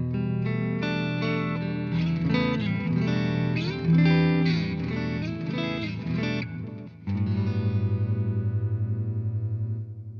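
Electric guitar through an Xotic boost pedal: chords ring out with a warm, boosted, slightly gritty tone, ending on a sustained, rhythmically pulsing note.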